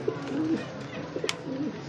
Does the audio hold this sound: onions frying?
no